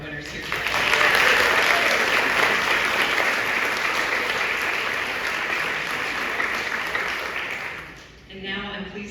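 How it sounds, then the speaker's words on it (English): An audience at a school alumnae awards presentation gives sustained applause for the winners, loud and dense at first, then gradually thinning before a voice starts speaking near the end. "let's give one more round of applause for all of our winners here today"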